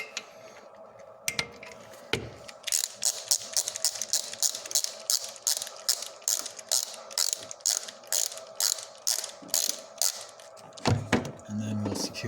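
A ratchet wrench tightens the flange bolts on a 2002 Corvette Z06 supercharger pulley to 20 newton meters, a rapid, regular series of close clicking strokes after a few knocks and clunks, ending with tool handling.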